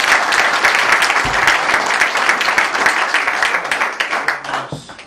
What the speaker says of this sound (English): Clapping makes me feel good.